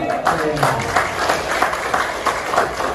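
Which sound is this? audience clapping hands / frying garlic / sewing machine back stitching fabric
audience clapping hands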